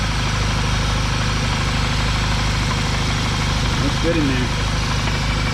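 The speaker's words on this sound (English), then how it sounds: "Single mass flywheel rattle." A VW MK6 GTI with an HPA K04 turbo and single-mass flywheel idles nearby, a steady low droning rumble with a faint rattle, while someone speaks briefly over it.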